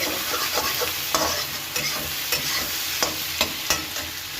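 Onions seasoned with salt stir-frying in a pan for a Bengali Bhola fish dish, a steady close sizzle broken by repeated scraping stirs of the spatula, with no talking.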